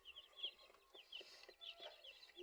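A three-day-old pet chick peeping in high, thin repeated chirps, faint and close, with a soft background hum and no talking.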